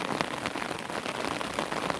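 Steady rain pattering on a surface, a dense continuous hiss with scattered drop ticks, no voices.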